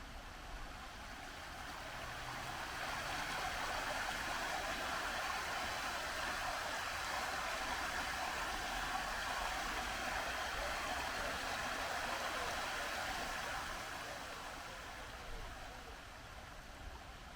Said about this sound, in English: Here's another one of them little zoom ins to see how the difference in the water sounds when it gets closer.